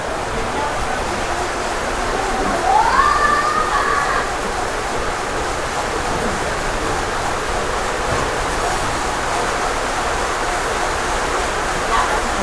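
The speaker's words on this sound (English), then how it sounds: "As you might be able to hear from the raining in the roof, it just picked up yet another notch." Heavy super typhoon rain in Moalboal, Philippines drums steadily on a roof, a dense continuous wash of noise holding at constant loudness throughout, with a brief faint tonal sound early on.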